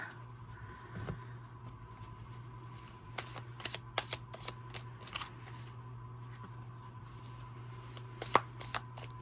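A stiff deck of cards being shuffled nearby in uneven bursts of crisp flicking riffles, with pauses between attempts over a steady low hum; no one speaks.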